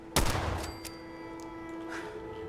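A single loud gunshot in Fallout 4, a sharp close blast followed by a ringing tail, with faint game ambience after it.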